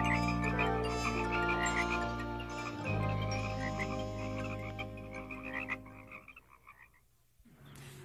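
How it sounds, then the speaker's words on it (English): A frog croaks repeatedly in a short run of loud, close calls, with no talking over them, heard in a scene from a Sesame Street episode. "Yes, it's a frog."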